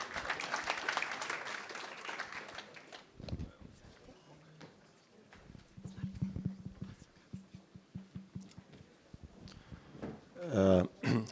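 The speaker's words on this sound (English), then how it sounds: "You can give them another applause" Applause from a conference audience at the Invento Summit 2024 panel on artificial intelligence fills the first three seconds as a dense, fairly loud burst, then fades into someone speaking with scattered noises and a brief loud rustle near the end.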